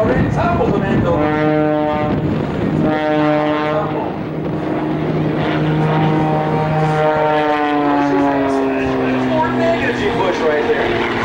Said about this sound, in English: Watch his big airplane come across the mountain with a half view turn